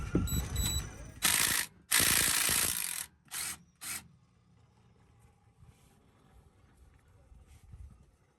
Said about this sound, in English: 19mm socket to remove the front plug of the front axle on her truck